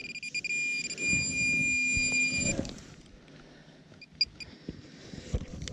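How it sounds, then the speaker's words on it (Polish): Electronic beeps and steady tones sound from X-Terra metal detectors during a field search, sustained at first, then shorter chirps with scraping noises in the background. "słyszycie, inne wykrywacze odzywają się"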